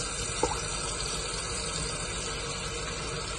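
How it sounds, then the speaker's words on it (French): Water runs steadily from a tap while goat meat is rinsed, a constant close gushing wash with a small splash near the start and no voices. "je vais maintenant bien rincer ma viande."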